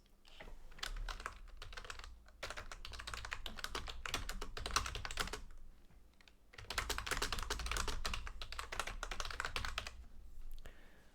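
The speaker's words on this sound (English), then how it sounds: "let me type in a short sentence or 2 sentences" Fingers type a short sentence or two on a computer keyboard, a close, steady patter of keystrokes that pauses briefly midway and then continues alone.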